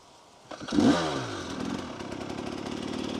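A warmed-up dirt bike's engine blips into a sharp rev, then settles into a rapid, buzzing, slightly uneven idle, close and loud, on a powdery off-road hillside.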